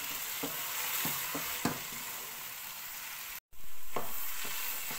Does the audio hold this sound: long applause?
no